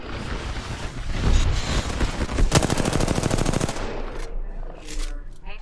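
Rapid automatic gunfire in a video game, a dense loud burst of fast regular shots that stops abruptly, leaving quieter game ambience behind.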